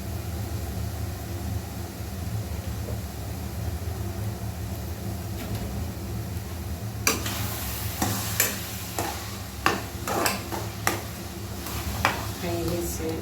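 Eggplant stirred and fried in mustard oil for an eggplant bharta with capsicum gives a steady, close sizzling hiss throughout; from midway, sharp scraping clicks of stirring come in an irregular rhythm.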